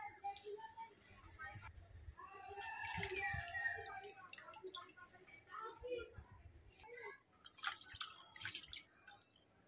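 Water splashes and drips over maida dough set to soak in a kitchen, with intermittent pouring and trickling bursts alongside a person speaking throughout.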